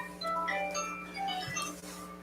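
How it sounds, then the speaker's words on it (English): Steady electronic alarm tones beep and chime in a repeating pattern during a township board meeting, faint against room noise, with no talk over them. "I think it's an alarm"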